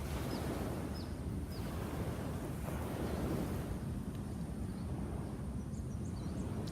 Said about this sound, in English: the sound of the water against the sand